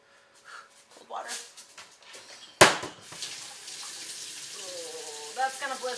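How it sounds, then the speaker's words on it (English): Cold water runs from a kitchen tap during cooking, a steady splashing hiss starting abruptly partway through after a sharp knock, with a voice murmuring near the end. "Cold water."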